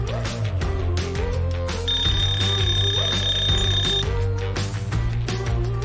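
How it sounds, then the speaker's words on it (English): Countdown timer alarm from an Ilek desk robot gadget: a steady, bright electronic tone holds for about two seconds over continuous loud background music. "He can set a countdown timer to help you track with your work."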